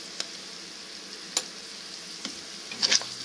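Onions and spices including turmeric, salt and chili powder sizzle softly in a frying pan while being stirred, with a few faint scraping strokes and a louder clatter near the end.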